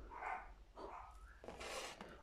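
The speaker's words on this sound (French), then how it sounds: "désolé, mon chien qui aboie" A pet dog barks indoors during a wood die-cut scrapbooking haul, three faint muffled barks from another room, spaced irregularly and quiet.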